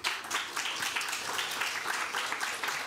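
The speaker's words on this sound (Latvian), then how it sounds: "Es domāju, ka viņi ir pelnījuši aplausus." An audience at a debate event applauding: a dense, steady wash of many hands clapping, moderately loud and continuous throughout.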